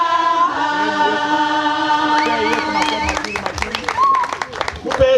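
Church congregation at a bishop's ordination breaking into a burst of clapping that rises over sustained singing and voices, the claps sharp and scattered, then dense, before fading under more talk.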